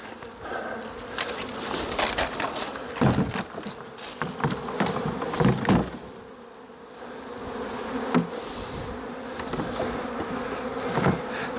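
Swarm of honey bees buzzing around a hive box: a dense continuous hum of many bees with individual insects droning close past, no talk.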